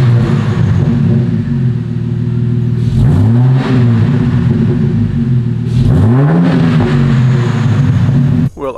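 Turbocharged 4200 inline-six swapped into a Colorado truck, loud and close, droning steadily with two sharp revs that spool up and fall back, no talk.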